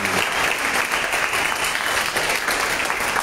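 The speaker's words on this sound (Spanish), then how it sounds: "Sí, aplaudanse." An audience at a jazz concert in a Mérida cultural venue breaks into loud, sustained applause, dense clapping from a crowd throughout with no one speaking over it.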